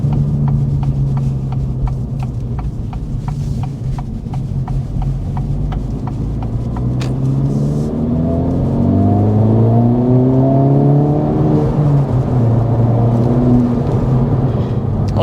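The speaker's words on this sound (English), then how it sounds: "I like that you can hear the turbo." A 2024 Acura Integra Type S with its 2-liter turbocharged four-cylinder pulls hard under acceleration, the loud engine note climbing steadily through the revs with an audible turbo whir, heard from inside the car without talk.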